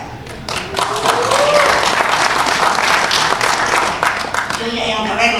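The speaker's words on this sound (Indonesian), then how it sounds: "Tepuk tangannya." An audience applauds in a dense, sustained wash of clapping, with a voice speaking over it.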